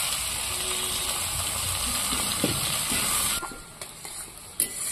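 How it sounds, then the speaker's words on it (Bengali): Chopped onions with whole cumin seeds fry in a pan, a steady close sizzle with occasional scrapes and stirring clinks, the hiss dropping off sharply near the end. "পেঁয়াজটা আমি সুন্দর করে লাল লাল করে একটু ভেজে নেব"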